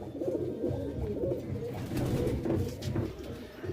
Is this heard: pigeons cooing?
yes